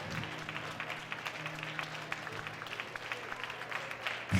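Audience clapping at the Carnaval de Québec giant cake event, a steady, fairly faint patter of applause from a crowd with a low hum beneath, rising briefly at the end.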